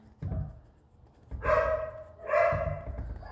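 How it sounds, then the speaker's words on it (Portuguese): A dog barks a few times nearby, short bursts spaced about a second apart, with a faint whimpering tone between them. "E os cachorros, né? Tava demorando."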